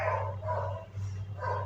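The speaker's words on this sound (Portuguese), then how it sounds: "Aí junta com os cachorros, né?" Dogs barking in the background during a class, in a few short bursts over a steady low hum; the barks sound somewhat distant and muffled.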